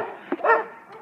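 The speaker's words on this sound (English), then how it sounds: "There's fucking dogs around this fucking neighborhood, I swear." A neighborhood dog barks nearby in a short burst of a couple of yips and a louder bark, with no talking over it.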